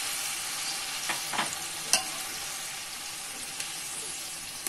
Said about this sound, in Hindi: अब इसके अंदर मैं टमाटर ऐड करूंगी,